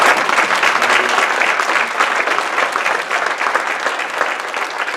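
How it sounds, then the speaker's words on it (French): A church congregation at a youth service claps together in loud, sustained applause that fills the whole stretch, with a slight fade toward the end. "Alors, applaudissons-le."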